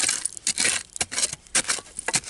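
Shards of broken glass clink and rattle as they are dug out of an old dump, several bright, jangling bursts of loose pieces knocking together at close range.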